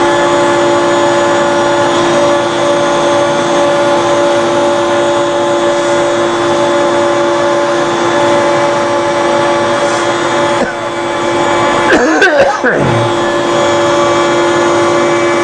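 A carving machine cuts a plaque an eighth of an inch deep, giving a loud, steady motorized whine with a constant hum that shifts and rattles briefly near the end.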